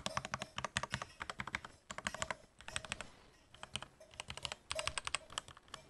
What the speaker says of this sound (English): I will say his space bar sounds really good. Listen to the space bar.